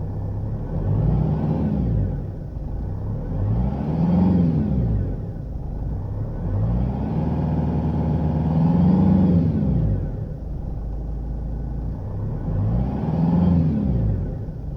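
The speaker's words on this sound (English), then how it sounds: "I've actually started having a horrific whine from the idler pulleys on the Jeep" A 2.8 diesel Jeep engine idles steadily while a whine from faulty idler pulleys rises and falls in slow waves, about every four seconds, loud and close with no talking.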